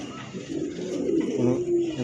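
A pigeon kept for sale coos in low, rolling murmurs, close and moderately loud, with faint voices behind.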